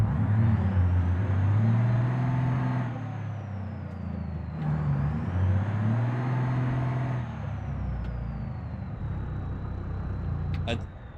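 Heavy truck engine labouring in low gear up a steep grade at a construction site in the BeamNG.drive driving game, a loud continuous drone rising and falling in pitch with long strained pulls, a brief air-brake hiss near the end.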